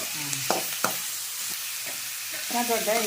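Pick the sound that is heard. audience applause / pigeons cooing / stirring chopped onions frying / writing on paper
stirring chopped onions frying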